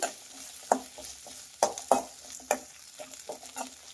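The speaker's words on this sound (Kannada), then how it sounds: "ಇದೆಲ್ಲ ಚೆನ್ನಾಗಿ ಫ್ರೈ ಮಾಡಬೇಕು. ಮೀಡಿಯಮ್ ಊರಿಗೆ ಇಟ್ಬಿಟ್ಟು ಫ್ರೈ ಮಾಡಬೇಕು." Cardamom and green chillies fry in a pan over medium heat, a low sizzle broken by scattered sharp clacks and scrapes of stirring, close and with no talking.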